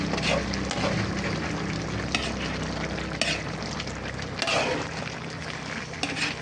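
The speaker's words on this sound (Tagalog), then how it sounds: "Haluin natin." Squash and string beans are stirred in a hot pan, a steady sizzle of frying under repeated scraping strokes of a utensil, close and continuous with no speech.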